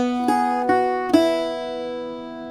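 Irish bouzouki plucking the second measure of a tune's first line, three bright picked notes in quick succession, the last left ringing out alone, close and clear.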